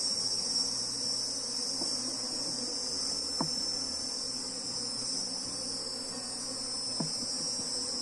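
Apis honey bees hum steadily around a wooden hive box outdoors, a soft continuous high buzz with crickets and insects chirping faintly in the background and a couple of brief clicks.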